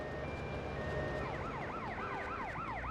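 An ambulance siren in the PS2 video game GTA Vice City Stories wails with a rising and falling pitch that repeats in quick sweeps, loud and steady over a constant background hum of game noise.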